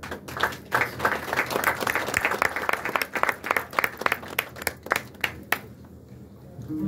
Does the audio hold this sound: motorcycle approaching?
no